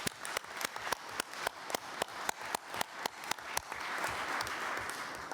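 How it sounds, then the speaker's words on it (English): Audience at a 2017 London conference on Somalia giving a round of applause: sharp, fairly regular individual claps at first that swell into a dense, sustained wash of clapping from many hands. "If I may invite everybody to give you a second round of applause."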